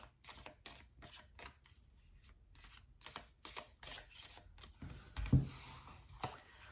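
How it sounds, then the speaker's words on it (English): A large tarot deck being shuffled by hand, a run of quick papery riffles and slaps in steady bursts, close and fairly quiet, ending with a sharper knock as the cards are squared. "So I'm going to pull from this deck and just give me a moment to shuffle."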